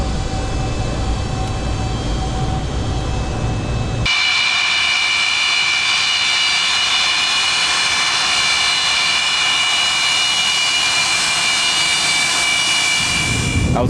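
Engines of an Antonov cargo aircraft roar continuously at close range, a loud sustained drone with a shrill high whine that shifts in tone partway through, with no talk.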